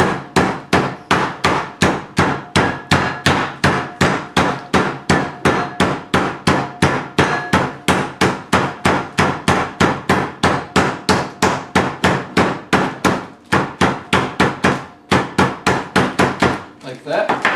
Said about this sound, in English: And you're going to want to smash it to where it's probably about